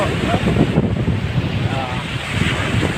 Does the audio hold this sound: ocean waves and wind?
yes